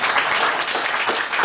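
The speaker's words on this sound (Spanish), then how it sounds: "vamos a dar un aplauso a Martin Luther King" Audience applause in a hall during a tribute to Martin Luther King at a poetry event, a dense, steady clapping from a crowd heard close and fairly loud throughout the short burst.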